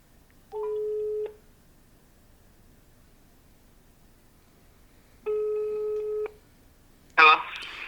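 An outgoing phone call rings in the earpiece with two electronic ringback tones separated by a long pause, loud and clear, followed by a brief burst of noise as the line picks up.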